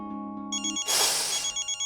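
A phone ringtone starts with a steady electronic tone, then jumps to a bright, loud ringing melody in a repeating pulsed pattern, heard alone and close.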